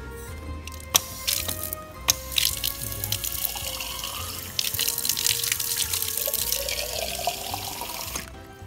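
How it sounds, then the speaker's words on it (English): Fresh spring water runs from a public fountain in Assisi, a continuous close splashing stream with a few sharp clinks and taps, no voices over it. "Fresh spring water."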